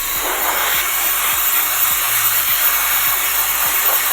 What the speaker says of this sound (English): have a little bit of blower just to have a little bit of cool air, because you don't want it to be too hot